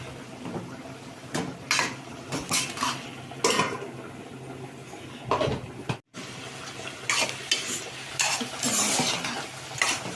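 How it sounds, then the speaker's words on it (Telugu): A spoon stirs onions softening in a pot uncovered for dried fish curry, with repeated scraping and clinking against the metal over a soft steady sizzle, close and without talk. "ఇలా మూత తీసి తిప్పుకోవాలండి తిప్పుకుంటే ఉల్లిపాయలు మగ్గుతా ఉంటాయి"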